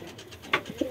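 A king pigeon gives a brief, soft coo, heard as a couple of short low notes at moderate distance within under a second of quiet surroundings.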